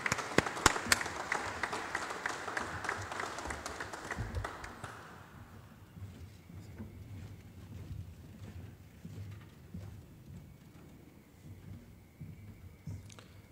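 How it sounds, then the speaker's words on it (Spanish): An audience at a book presentation on Peru's thirteen constitutions gives a brisk, loud burst of clapping. After about five seconds it fades into quiet room tone with faint stray noises. "pido un fuerte aplauso para esta obra presentada"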